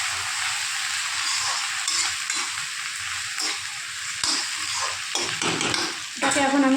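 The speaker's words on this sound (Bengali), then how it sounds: "বেগুনটাকে এখন ভালো করে মিক্স করবো পেঁয়াজের সঙ্গে।" Eggplant and onions being stir-fried in a pan, a continuous sizzle with spatula scrapes and stirring clatter, close and steady, faint voice in the background.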